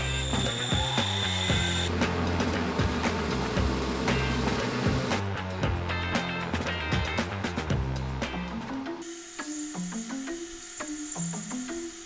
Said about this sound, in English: So I'm going to be grinding the husk off of 3 of these agate nodules.